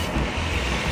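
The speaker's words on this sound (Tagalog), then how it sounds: "Medyo maingay, dami sasakyan." Busy road traffic on the way to Antipolo: a continuous low rumble of passing cars and trucks, steady and fairly loud, with no talking.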